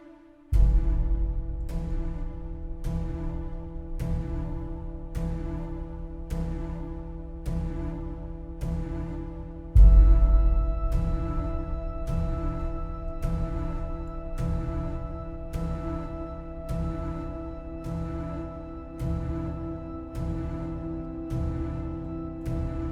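An orchestral passage with organ and clarinets sustains held tones, while a bass drum and a tom pound a steady, regular beat throughout, with one heavier accent midway.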